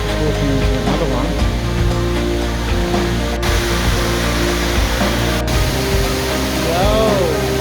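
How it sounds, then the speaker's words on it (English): A rainforest waterfall on a walking circuit, a steady broadband rush of falling water that fills the whole clip at close range, with brief sounds of someone moving nearby. "just another sneaky waterfall"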